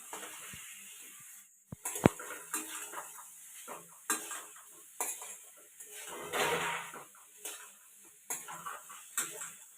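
Spices, boiled borboti (yardlong beans) and potatoes stirred together in a pan for borboti kolai ghugni, with a spoon repeatedly scraping and clattering against the metal in uneven knocks over a soft sizzle.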